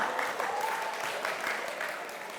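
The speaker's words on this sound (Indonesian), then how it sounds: "berikan tepuk tangan yang paling meriah untuk Dian Sastro" An audience in a school hall at SMA Labschool Bintaro applauds Dian Sastro, a brief burst of crowd clapping that swells and then tapers off slightly, with faint voices mixed in.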